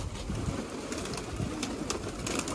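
A restless pigeon coos softly near seed scattered on a rooftop water tank, low murmuring calls blended into a noisy, crackling outdoor background.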